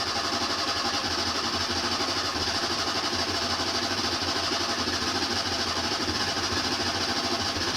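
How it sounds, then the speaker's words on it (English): An Abarth car engine idles steadily at low revs to build oil pressure before any throttle, a constant close, even mechanical hum with a fine rapid pulse and no revving. "Just building the oil pressure before I'm giving it any throttle."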